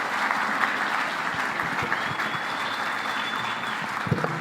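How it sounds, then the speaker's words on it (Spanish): A church congregation applauds at a sermon, a loud, dense, sustained clapping from many hands that fills the room evenly from start to finish. "Si va a aplaudir a Jehová de los ejércitos, hágalo con toda la fuerza"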